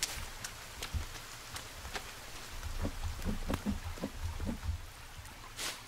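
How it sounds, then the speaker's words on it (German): Rain patters down in the survival video game The Forest, scattered drops and soft ticks over a low rumbling backdrop, with no one speaking. "So, es regnet doch, es regnet."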